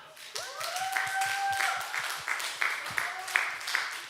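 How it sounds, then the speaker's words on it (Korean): Crowd applause with steady clapping filling the room, with voices and cheering mixed in over it. "또 손민수 청년이 있는 곳까지 크게 이번에 응원의 박수를 보내드릴게요"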